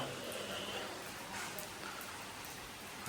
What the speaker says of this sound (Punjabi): ਅਜੇ ਵੀ ਮੀਂਹ ਨਹੀਂ ਹਟਿਆ